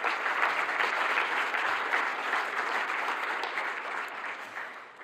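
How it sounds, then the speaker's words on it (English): Audience at the closing plenary of the EOSC Symposium 2024 gives sustained applause, dense steady clapping that slowly fades toward the end, no voices over it. "A big applause to them."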